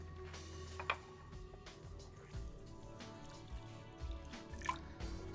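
Warm water trickles and drips onto dry couscous in a pot in a kitchen, a soft uneven stream with a few brighter splashes, quiet and close with no one talking.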